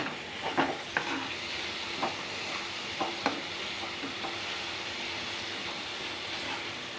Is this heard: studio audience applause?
no